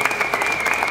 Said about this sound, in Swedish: En applåd för Steven!